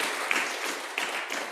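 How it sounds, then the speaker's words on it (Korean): A church congregation at a Korean church Sunday service applauds to welcome visitors, a brief, dense burst of clapping from a room full of people, steady throughout with no talking over it. "박수로 환영하도록 하겠습니다"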